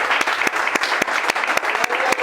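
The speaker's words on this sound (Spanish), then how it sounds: "Démosle un aplauso al Señor por esa promesa que nos da." Close, loud applause from a church congregation, a thick bed of clapping with strong regular claps from nearby hands landing roughly every quarter second.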